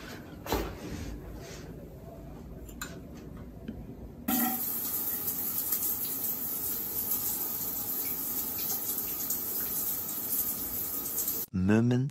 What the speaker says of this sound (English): Let's have a shower.